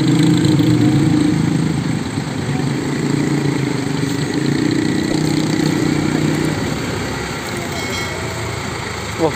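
A large tour bus engine idles with a steady low rumble in a crowded parking lot of pilgrimage coach buses, with broadband traffic noise throughout and people talking in the background.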